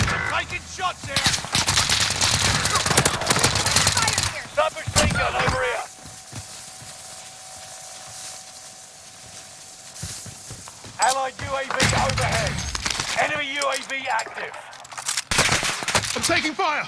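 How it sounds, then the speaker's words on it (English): Bursts of automatic weapon fire in the Warzone video game on Rebirth Island, loud clusters of shots at the start and end separated by a quieter stretch with a faint steady tone. "I'm taking fire!"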